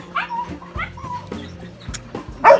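Dogs yip, whimper and give short barks close by in a kennel at feeding time, with one louder bark near the end, over a busy background.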